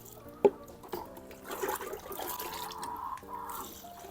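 Liquid homemade organic fertilizer poured onto plant soil, a soft close trickle and splash with a sharp knock near the start, running steadily alone without talk.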